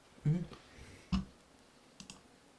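A few sharp clicks of a computer mouse, spaced irregularly, close and fairly quiet against a faint background hiss.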